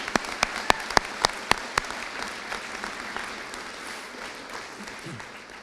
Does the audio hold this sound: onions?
no